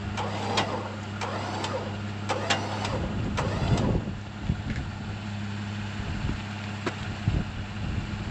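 A truck engine runs steadily with a low, even drone during an off-road winch recovery, joined by sharp clanks and knocks from the recovery gear and some rustling movement nearby.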